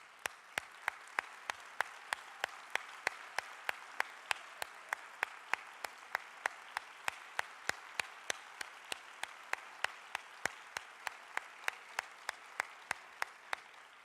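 An audience at an inauguration event applauds don Lorenzo Servitje, a faint distant roar of clapping with an even, rhythmic beat running throughout.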